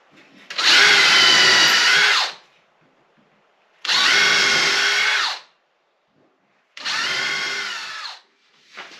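Three bursts of a power drill whirring as it drives screws into wood, each lasting one to two seconds with quiet gaps between, close and loud.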